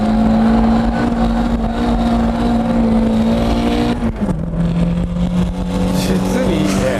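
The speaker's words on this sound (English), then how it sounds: "I'm literally flooring it the entire way." A drift car's engine held at full throttle, a loud sustained high rev that dips briefly and settles at a lower steady pitch, with a voice talking over it.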